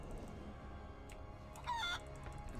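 A mutant bush chicken in World of Warcraft, a short burst of faint clucking rising briefly over a low game backdrop.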